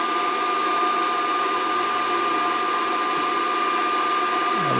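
A heating device blowing air onto a suspension nut on an Audi A3 to heat it red, giving a continuous, even whooshing hiss with a steady whine, close and unbroken throughout.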